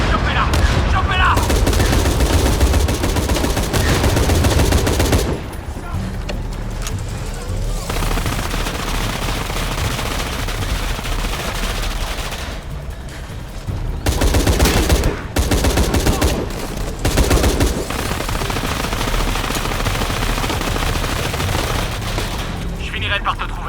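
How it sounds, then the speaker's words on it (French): Video game gunfire in Shadow of the Tomb Raider: loud, dense bursts of automatic weapons fire and shots running almost continuously, with dips and brief gaps, mixed with game voices and combat noise. "On essuie des tirs, mais on reste stable."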